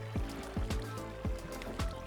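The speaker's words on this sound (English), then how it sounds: "is this an actual cave system with flowing water?" Flowing water in a Minecraft cave system, a steady trickling rush running continuously with soft repeated splashy pulses, fairly close and with no talk over it.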